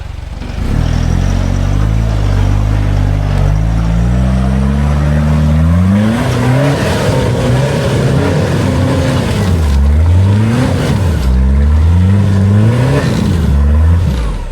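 Loud 4x4 engine revving hard and continuously while climbing a steep, slippery hill track, pitch rising and falling repeatedly as the throttle surges.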